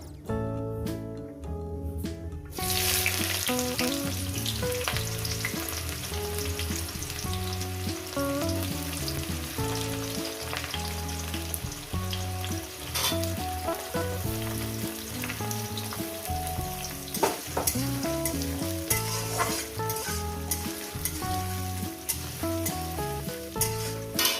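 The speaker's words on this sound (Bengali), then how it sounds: "গোটা গরম মশলা কয়েক সেকেন্ড ভেজে নেব দিয়ে দেবো এখানে পেঁয়াজ কুচো" Chopped onion frying in oil with whole garam masala and bay leaf, a dense, loud, continuous sizzle with faint stirring clicks throughout after a brief quiet start, no talking.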